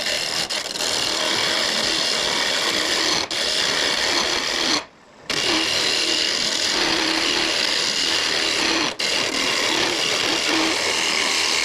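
A lathe roughs out the outside of a hollowed piece of rotten wood, a loud continuous whirring cut with a few brief dips and one short pause midway, no voices.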